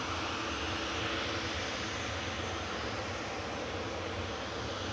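A TUI Boeing 737-800 lined up at Manchester Airport gives off a steady, distant jet engine rumble and hiss, continuous and fairly faint, with no voices.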